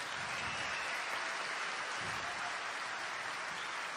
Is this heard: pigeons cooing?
no